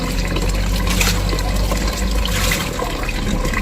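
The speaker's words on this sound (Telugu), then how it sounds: "కింద పోసాను చేప ముక్కలు. కడిగి కిందే పోయిలా." Water poured over pieces of fish being washed, a steady close splashing and gushing stream that runs continuously without a break, with no talk over it.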